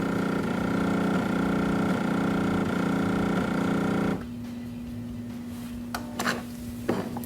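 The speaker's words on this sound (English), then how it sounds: "When it's brewing, you'll hear the pulse extraction system pulsing" A Jura Ena 8 automatic espresso machine drones loudly and steadily with a rhythmic pulsing from its pulse extraction system while brewing, then cuts to a quieter hum with a few faint clicks.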